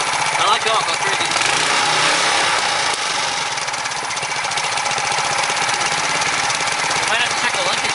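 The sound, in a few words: rebuilt Briggs & Stratton Quantum engine running at high RPM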